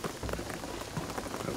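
Steady rain pattering on surfaces in Shadow of the Tomb Raider, a dense, even hiss of drops at moderate volume with no talk.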